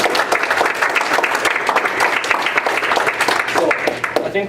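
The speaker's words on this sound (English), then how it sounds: "I think another round of applause for those 2 individuals" An audience at a school board meeting gives a round of applause: dense, continuous clapping from a roomful of people, close and fairly loud, easing off slightly at the very end.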